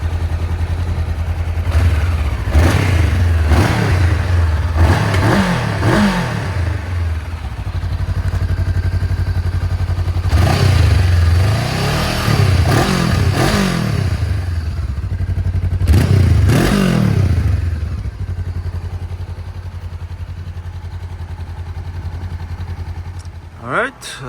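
A 2017 Honda CB500F motorcycle idles with a low, steady exhaust thrum, then is revved in several sharp bursts, each climbing and falling back, close up, with a voice speaking over it.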